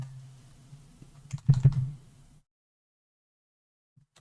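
Typing on a computer keyboard, a burst of quick clicking keystrokes building to a dense flurry, then silence with one last key tap at the end.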